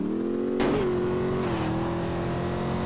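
A car engine revving in the video game GTA San Andreas, a steady tonal drone that dips and shifts pitch, with brief hissing bursts layered over it, continuous and close.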